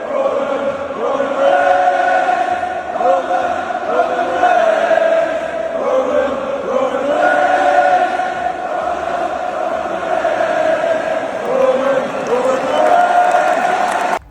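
A large wrestling arena crowd roars and chants as Roman Reigns makes his entrance, a loud continuous wall of cheering with rising and falling sung chant-like tones throughout.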